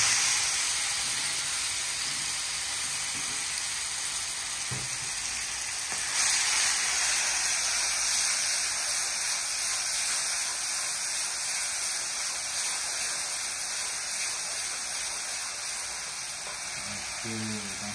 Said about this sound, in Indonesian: sekarang kita tinggal goreng cabai dan bawang